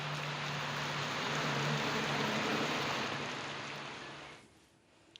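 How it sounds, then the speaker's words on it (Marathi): A dense, steady roar of heavy rain pours down for several seconds, then fades abruptly near the end. "ऐनवेळी पडलेला हा मोठ्या प्रमाणात मुसळधार पाऊस"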